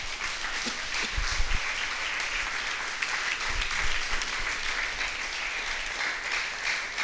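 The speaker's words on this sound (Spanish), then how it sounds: "Dale un aplauso al Señor" A church congregation claps together for several seconds, a dense, even wash of applause filling the room with a few louder thumps near the start.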